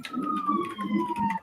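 A siren sweeps in a single falling tone under a busy, talk-like background, loud and close but very brief.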